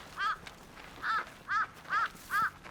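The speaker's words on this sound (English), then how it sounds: "Is that the sound of a crow?" A crow at Tai Tong in Hong Kong caws five times in a steady series of harsh, nasal calls, fairly close and clear against quiet outdoor background.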